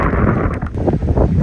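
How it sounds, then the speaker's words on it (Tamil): Strong wind buffets the microphone at an outdoor cricket tournament final, a loud, rough, continuous rumble lasting the whole short moment with no voices heard. "நல்ல காத்துங்க, பயங்கரமான காத்து"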